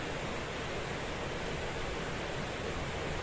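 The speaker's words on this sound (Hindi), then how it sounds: "महसूस कीजिए झरने की आती आवाज़ों को।" A waterfall gives off a steady, dense rushing roar of falling water, even and unbroken throughout at moderate loudness, with no voices.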